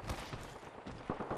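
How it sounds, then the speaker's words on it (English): Gunfire in a battle royale match of Apex Legends: rapid, dense bursts of shots that run through the whole moment, with heavier cracks near the start and again toward the end. "I'm taking fire"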